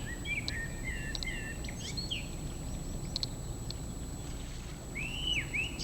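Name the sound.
black guillemot calls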